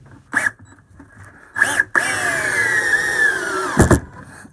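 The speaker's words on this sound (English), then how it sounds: "This will drill that straight in and it won't cut out." A DeWalt cordless drill drives a large screw in one sustained whirring run of about two seconds, with a couple of short, sharp bursts around it, heard close and alone.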